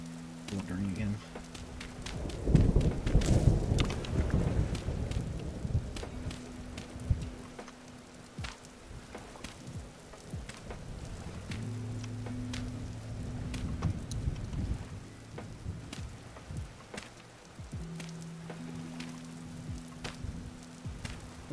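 Rain falls steadily in the video game Vintage Story, a soft patter layered with low rumbles and tonal game sounds, with a louder burst of noise early on.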